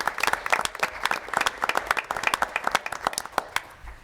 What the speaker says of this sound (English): If you could give her another round of applause.